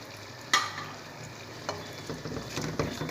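Eggs being stirred with a spoon into masala frying in a pan for dhaba-style egg dal, a steady close sizzle broken by a sharp clink and a few scraping stirs.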